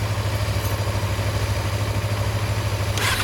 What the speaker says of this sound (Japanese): エンジンを聞かせてもらえるかな。